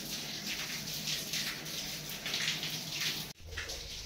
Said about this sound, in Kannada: ನೋಡ್ರಿ ನಮ್ಮ ಮನೆ ಸೋರಾಕತ್ತಿದ್ರಿ